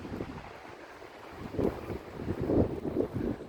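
Strong, bitterly cold wind blusters around Yeadon Tarn in Tarnfield Park, rushing and buffeting the microphone in uneven gusts that swell louder toward the end. No voices are heard.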